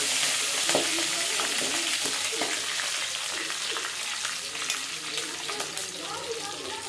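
Mustard seeds and curry leaves sizzle and crackle in hot oil, a steady loud frying hiss with scattered sharp pops throughout.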